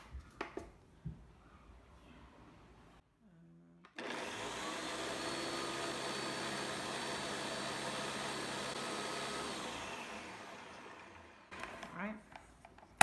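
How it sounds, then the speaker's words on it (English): A blender whirs loudly for about six seconds as it purees cream and turnips, a steady harsh motor roar that starts abruptly and tapers off, preceded and followed by quiet kitchen clatter. "blend this up. It's gonna be loud."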